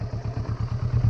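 A Kawasaki Versys 650 motorcycle at low speed with the clutch released thumps out a rapid, regular engine pulse, close and fairly loud, rising slightly toward the end.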